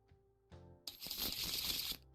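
Cards are shuffled in the Tabletop Simulator game during a Warhammer 40k match: a short dense burst of riffling noise, about a second long and fairly loud, follows two soft clicks, with no talking.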